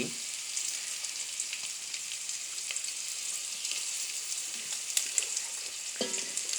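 Curry leaves and garlic sizzle and crackle steadily in hot oil, a dense continuous frying hiss with occasional sharper pops and stirring scrapes, close and fairly quiet with no talk.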